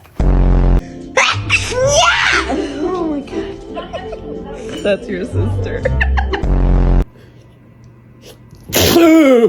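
A person sneezes loudly several times in a car, the sharp bursts clearly separated, with other people talking and laughing between them.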